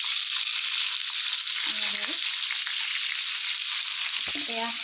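Tomatoes turned over on a large, slightly concave tawa keep frying for a sesame and radish chutney, a constant close sizzle with a couple of brief clatters from the pan near the end.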